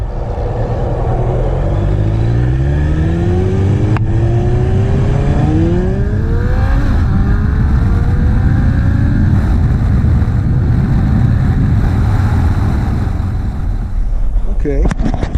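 A carbureted motorcycle engine, a Suzuki Bandit or Honda single-cylinder, revs up and down repeatedly, loud and close, with rising and falling pitch sweeps and a steady rumbling idle between revs.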